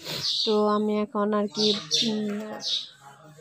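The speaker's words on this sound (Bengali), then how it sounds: "পাখির ডাক শুনতেই পাচ্ছ।" Morning birdsong of short, bright chirps comes in bursts from some distance while someone speaks up close over it.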